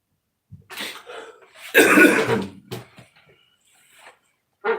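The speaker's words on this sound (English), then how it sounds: "I apologize for all the coughing." A person coughs close by in a dusty room in a few bursts, with one loud, rough cough in the middle and a final short cough after a pause.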